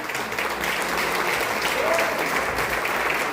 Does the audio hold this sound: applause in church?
yes